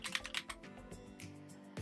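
Quick bursts of keystrokes on a computer keyboard, light clicky taps in rapid uneven runs, close to the microphone and fairly quiet, ending with a slightly heavier final press.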